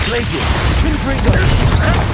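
Glacius and Confringo spell casts and fiery explosions in Hogwarts Legacy, a dense run of booms, pops and crackling bursts over a busy game soundscape with some voice-like sounds mixed in.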